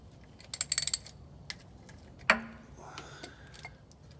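A ratchet clicks in a quick run of ticks while tightening the power wire on the starter of an OBS Ford 4.9L inline-six 300 engine, followed by a sharp metallic clank and a few scattered clicks.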